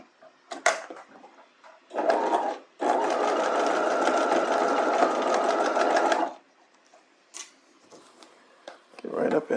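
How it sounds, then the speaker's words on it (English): A sewing machine runs in a steady, even burst for several seconds while stitching a bodice hem, preceded by a shorter start and followed by quiet handling noises and brief clicks. "We're at the machine here. Let's go ahead and finish stitching this."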